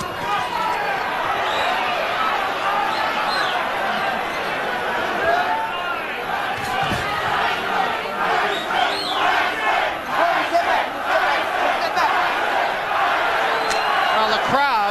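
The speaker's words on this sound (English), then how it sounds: "They are being booed, and I imagine even Tyson is the target of some of them." A big boxing-arena crowd during a Mike Tyson versus James Smith fight roars and jeers continuously, a dense sustained wall of booing and yelling with shouted chants rising through it.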